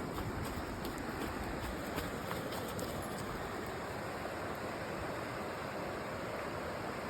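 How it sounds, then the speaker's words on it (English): Floodwater pours high over a weir after heavy rainfall, a steady, dense roar of rushing water that fills the scene without pause, loud and close, with no voices. "Look at all the water flowing down."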